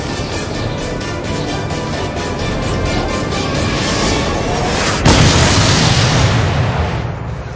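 Missile strike explosion destroying a target, a loud sustained roaring rumble with a sharp boom near the middle followed by continued heavy noise.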